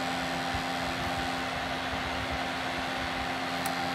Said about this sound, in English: When you turn it on, you hear that vibration.